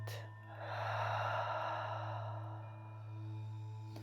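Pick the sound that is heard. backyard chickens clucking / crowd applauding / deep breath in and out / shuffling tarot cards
deep breath in and out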